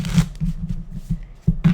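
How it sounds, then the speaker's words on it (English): A tarot card deck being shuffled by hand at close range, a series of soft rapid riffling bursts with short pauses between them, heard alone without talk. "let me just shuffle this real quick"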